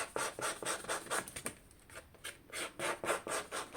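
Scissor blades scrape back and forth across the folded paper edge of a handmade junk-journal file folder, a rhythmic, close dry rasping in repeated strokes with a brief pause midway.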